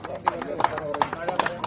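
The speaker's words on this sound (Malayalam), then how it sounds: "കയ്യടി, എല്ലാരും കയ്യടി, ക്ലാപ്പ് ചെയ്യ്, ക്ലാപ്പ് ചെയ്യ്." An audience at a water-drinking contest clapping in a steady, even rhythm, about three claps a second, fairly close, with voices over it.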